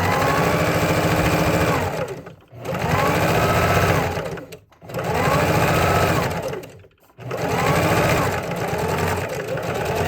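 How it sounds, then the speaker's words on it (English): A sewing machine stitches fabric close to a folded edge on a reusable gift bag, running in steady loud whirring bursts with three brief pauses between runs. "we're going to sew really close to that folded edge, making sure that we catch both of them in there"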